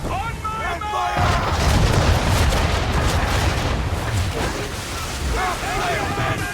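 Ship cannons firing in Assassin's Creed III during a naval battle, heavy booming volleys that blend into a loud, continuous roar of wind and sea, with shouted voices at the start and end.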